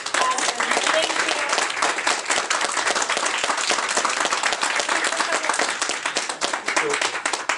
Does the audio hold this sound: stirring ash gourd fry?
no